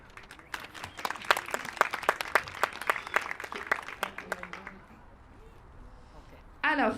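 A small audience clapping at a children's certification ceremony, sparse, uneven hand claps, fairly close, fading out after about five seconds before a voice cuts in at the end.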